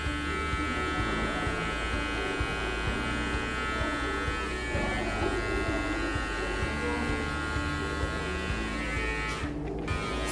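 An electric hair clipper fitted with a number 1 guard buzzes continuously through a fade on curly hair, a steady close drone that holds without a break and has no talk over it.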